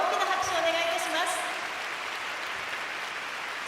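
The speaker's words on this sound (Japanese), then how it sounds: "すべてのスケーターに今一度大きな拍手をお願いいたします。" Arena crowd applauding skaters at a figure skating exhibition gala, a steady wash of clapping heard mid-distance beneath an announcer speaking over a PA.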